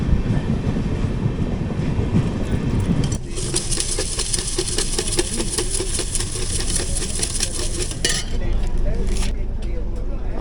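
An LHB AC chair car on the 22616 Intercity Express rumbles along the rails, with a loud bright metallic roar swelling mid-clip, then fading back to a steady running rumble; faint voices sit underneath.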